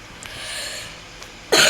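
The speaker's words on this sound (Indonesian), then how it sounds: "sorry batuk" A single sharp cough bursts out near the end after a stretch of quiet background hiss, loud and close to the microphone.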